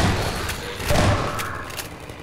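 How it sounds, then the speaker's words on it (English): A grenade blast hitting turrets in Half-Life 2, a single muffled, heavy thud-like explosion about a second in, rising out of low background rumble and fading quickly. "Oh, I got the turrets with that nade."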